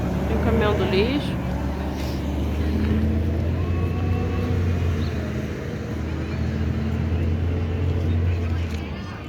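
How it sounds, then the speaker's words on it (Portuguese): Garbage truck on a Madrid street, a loud steady low engine rumble with mechanical whine and passing traffic noise filling the whole stretch, with faint voices underneath. "Tem o caminhão do lixo."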